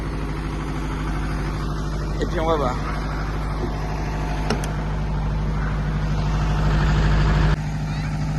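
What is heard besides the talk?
truck tractor engine running while moving forward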